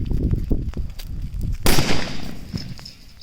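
A Sonny King of King bomb firecracker blasts once, a loud sharp explosion with a broad crack that rings out and fades over the next second, preceded by faint outdoor crackling and rustle.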